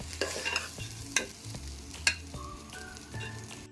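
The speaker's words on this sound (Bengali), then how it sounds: "মিডিয়াম আঁচে এটাকে ভালো করে ঝরঝরা করে ভাজা করতে হবে।" Rice fried over medium heat in a pan for basanti pulao, a quiet sizzle broken by sharp scrapes and clinks as a spatula stirs it, with a few distinct strokes standing out.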